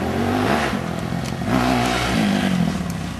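An XR 200 race motorcycle engine revs steadily and loudly right after a bump start, with rising and falling pitch over a continuous, close, throaty drone and no talking.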